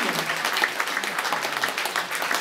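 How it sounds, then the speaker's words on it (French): Sustained applause from an audience at a judo club awards ceremony, steady dense clapping filling the whole stretch at moderate level with no talk over it. "Donc on peut l'applaudir."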